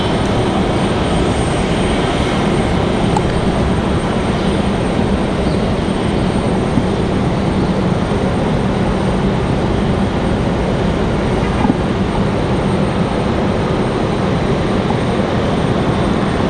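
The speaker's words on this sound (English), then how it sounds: "Avelo making that final left turn onto final." An Avelo airliner on final approach to RDU airport in Raleigh-Durham, a loud steady engine roar that stays constant throughout without fading.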